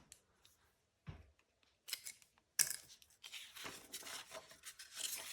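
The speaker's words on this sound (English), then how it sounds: "cut that extra piece with a pair of scissors" Scissors snip and slice through paper in a few close, crisp cuts, followed by rustling as the paper is handled.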